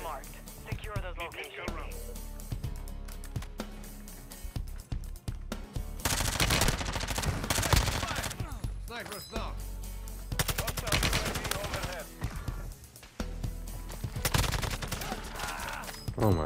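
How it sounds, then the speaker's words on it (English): Gunfire from Warzone 2 with a sniper shooting from long range, heard as a quick mix of sharp shots and rapid automatic bursts. The firing comes in loud clusters over steady game noise and chatter. "We're getting sniped all the way out there."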